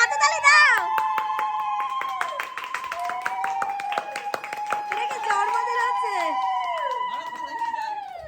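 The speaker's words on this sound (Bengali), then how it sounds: "সবাই মিলে দেখো কি জোরে হাতে তালি দিচ্ছে।" A group claps hands loudly and rhythmically at a Bengali pre-wedding feast celebration, sharp repeated claps under shrill, sustained high-pitched voices calling out joyfully throughout.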